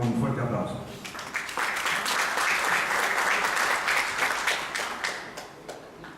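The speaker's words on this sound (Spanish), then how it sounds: "a quien lo recibimos con un fuerte aplauso" A university audience at Ricardo Palma applauds loudly to welcome a speaker. A voice is heard briefly at the start, then sustained clapping fills several seconds before tapering off.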